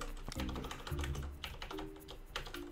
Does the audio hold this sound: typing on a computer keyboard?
yes